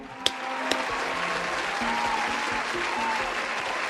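Applause for a wrestler on a wrestling talk show, a steady spread of clapping held at moderate level with a couple of sharp claps early on and a faint voice underneath.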